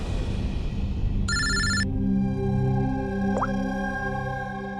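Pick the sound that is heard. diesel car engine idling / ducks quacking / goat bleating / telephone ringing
telephone ringing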